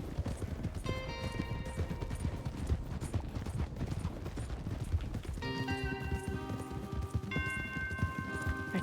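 Horse hooves clip-clop steadily in Red Dead Redemption 2, a continuous trotting rhythm under a dense bed of in-game ambience and tonal music, with no talk.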